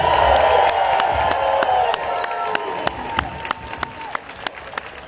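Applause and cheering from a crowd at a student protest against mandates, a dense wash of clapping with whoops that thins over the seconds into scattered, sharper individual claps.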